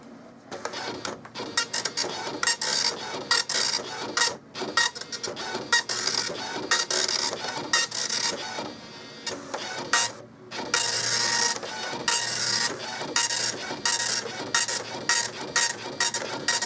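An Okidata Microline 184 Turbo 9-pin dot matrix printer buzzes and rattles steadily through its lines, with brief pauses between passes, moderately loud and close.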